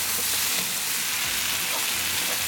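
Eggplant and taro root sabzi sizzles and fries steadily in a pan over medium gas, a continuous close crackle with no voices.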